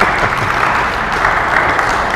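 Congregation at a church worship service clapping, a loud, continuous wash of many hands close by, steady without breaks.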